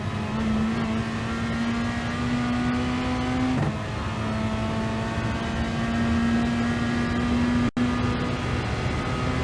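Peugeot RCZ Gr.3 race car in Gran Turismo Sport at the Dragon Trail Gardens circuit, its engine holding a loud, steady high-revving drone that climbs through gear changes, with a brief cut near the end.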